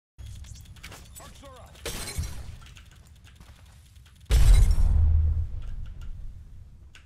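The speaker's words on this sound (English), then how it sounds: "Throwing thermite grenade." In a video game, a thermite grenade goes off with two loud shattering bursts, a smaller one followed by a heavier boom with a lingering sizzle. Game effects and a voice run under them.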